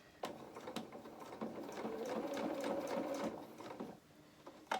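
A sewing machine stitches a doll's coat sleeve in a short, soft, continuous whir, heard close and alone with faint mechanical ticks.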